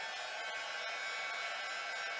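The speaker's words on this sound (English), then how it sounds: "Take your heat tool, let it warm up for a couple seconds" A heat embossing tool warming up to melt embossing powder on a stamped Christmas card gives a steady, even blowing hiss like a small hair dryer, close and unbroken throughout.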